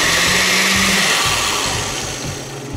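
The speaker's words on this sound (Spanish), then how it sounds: "y a licuar" A blender whirs loudly and continuously, blending cilantro with salt and pepper into an aguachile sauce, a dense steady motor roar with slight pitch dips, close up and with no voices.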